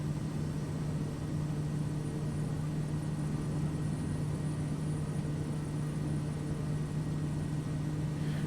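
Kodiak aircraft engine in a flight simulator holding a steady, even drone with a strong low hum, constant in loudness with no voices.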